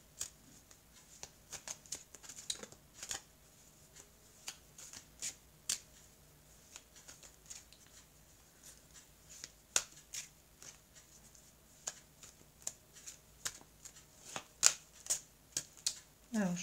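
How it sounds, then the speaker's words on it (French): Oracle cards from a mirror-themed deck are shuffled in soft, irregular riffles and taps, quiet and close, growing busier toward the end, with faint speech in the background. "Alors, je vais prendre les cartes de l'oracle des miroirs."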